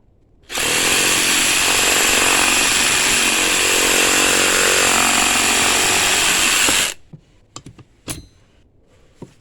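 A chainsaw roars at full throttle for about six seconds, cutting out a knotty spot on a hickory sapling, then cuts off abruptly, followed by a few scattered knocks and clatters.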